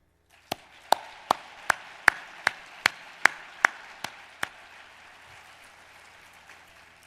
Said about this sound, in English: please join me in another round of applause in appreciation of the Women of Power sponsors, both past and present